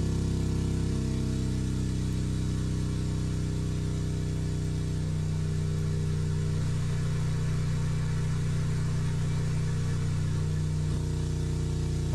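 A steam engine from a video game steam engine simulator runs steadily at close range, a continuous low mechanical drone that shifts in pitch and loudness partway through and then settles, with no talking.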